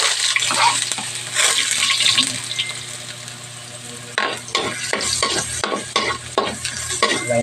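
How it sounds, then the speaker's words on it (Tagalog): Garlic sautéing in hot oil for a Filipino ginisang gulay, a steady loud sizzle with stirring scrapes and clinks throughout, with a brief dip in the frying noise midway before it surges back. "lagyan na natin itong bawang"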